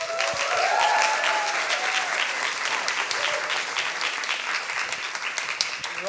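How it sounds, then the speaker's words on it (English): Audience applause at a science slam as a speaker takes the stage; dense, steady clapping from a sizeable crowd throughout, with a brief whoop or voice early on. "Big applause for Andrew."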